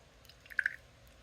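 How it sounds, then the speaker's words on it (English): Water is dribbled into titanium white acrylic paint, giving a couple of soft wet squishy drips close to the mic in quick succession against a quiet background. "I'm going to add more water to it to make it really runny."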